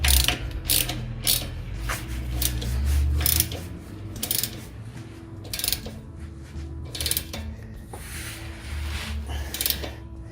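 A 15mm ratchet tightening a bolt on a steering stabilizer installed on a 2016 Jeep Wrangler JKU, with repeated close clicking strokes of the pawl and faint metallic rubbing, no talk.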